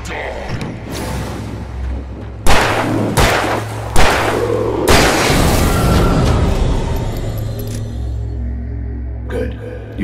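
Loud gunshots and heavy booming blasts ring out in Alan Wake Remastered, several sharp bursts clustered in the middle of the stretch, over a low steady game drone and music bed.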